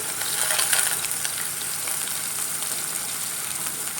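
Garlic, tomato and green chili sauté in a hot pan with a steady, close sizzle and faint stirring, no voices.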